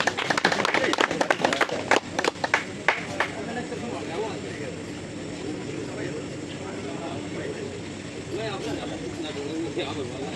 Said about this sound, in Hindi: बजा दो ताली।